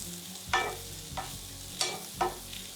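Chopped chili and ginger cook down in a pan with a soft background sizzle, broken by four distinct scraping stirs at uneven intervals, close and moderately loud, with no voices.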